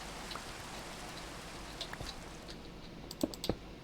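Steady rain falls in the block-building game Minecraft, a constant soft hiss with scattered light droplet ticks. A few sharper taps come near the end, and no one speaks.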